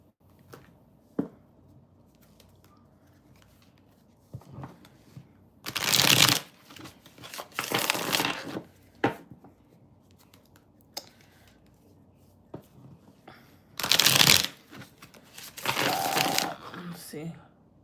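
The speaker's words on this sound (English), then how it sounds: "I'm gonna shuffle one more time." Tarot cards are shuffled by hand in several brisk, crisp bursts during a live reading, each lasting about a second, close up, separated by quieter stretches with faint background sound.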